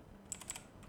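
A few quick keystrokes on a computer keyboard while entering a spreadsheet formula, soft clicks at a close distance over a quiet background.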